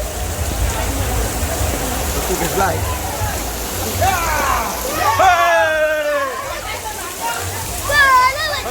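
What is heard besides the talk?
heavy rain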